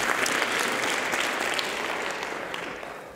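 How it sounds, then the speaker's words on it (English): A lecture audience claps loudly and steadily, a dense wash of applause that slowly fades toward the end. "if we could just get another round of applause there"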